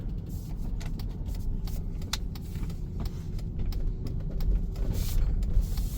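A Chrysler Town and Country minivan rolls through a wide turn, a steady low road and engine rumble inside the cabin with scattered small clicks and rattles, no talk.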